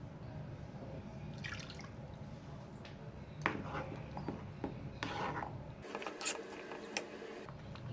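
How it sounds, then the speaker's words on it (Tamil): Water is poured in small amounts into mashed peas in a bowl for chaat masala, heard as faint, close trickles and scattered drips over a quiet background. "இதில் கொஞ்சமாக தண்ணி கலந்துக்கிறேன்."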